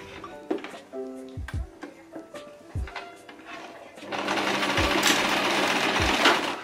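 A sewing machine stitches a straight line through cotton fabric while an apron is being made, starting with scattered clicks and handling knocks, then running in a steady, close whirring burst for the last few seconds.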